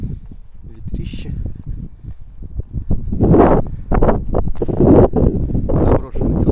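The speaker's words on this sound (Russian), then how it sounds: "Ветрище." Strong gusting wind on open ground at an abandoned collective farm in autumn, heard as low, rumbling buffeting that rises and falls in bursts, with someone talking over it.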